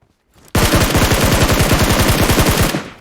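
A long unbroken burst from an MG3 machine gun in PUBG Mobile, very loud and rapid, with dense rhythmic shots hammering for over two seconds before cutting off.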